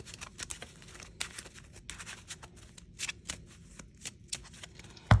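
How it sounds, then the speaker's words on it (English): A deck of Yu-Gi-Oh! trading cards is shuffled by hand, a quick series of crisp riffling bursts close up, ending with a louder thump as the deck settles. "We'll give it a shuffle first."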